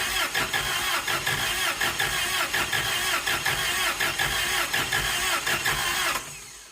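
A Toyota forklift engine cranks with a steady rapid chugging rhythm for about six seconds, loud and close, then cuts off abruptly without catching; no talk.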